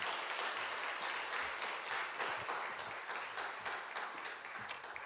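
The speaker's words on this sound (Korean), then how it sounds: "우리 뜨거운 박수로 우리 장로님 맞이해 주시면 감사하겠습니다" A church congregation gives warm applause to welcome an elder, a fairly quiet, even stretch of many hands clapping that carries steadily throughout.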